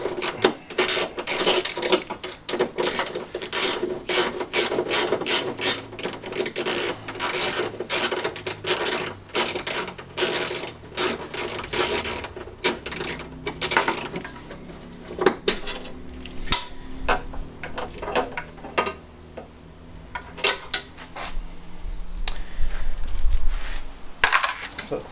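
Metal clicking and ratcheting of a 10 mm socket wrench undoing bolts on a classic Fiat 500 during engine removal, with rapid close-up clacks and rattles through most of the clip and a few scattered taps near the end.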